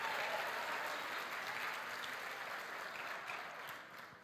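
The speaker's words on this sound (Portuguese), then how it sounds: "dê um aplauso ao Senhor" A church congregation claps in a dense, even round of applause, heard fairly faint and distant, that fades off toward the end.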